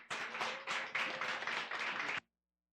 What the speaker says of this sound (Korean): 우리 고등부 나올 때 큰 박수 부탁드립니다